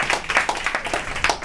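Audience clapping for a poet at a spoken-word event comes as quick, uneven rhythmic claps from a small crowd, brief and fairly close.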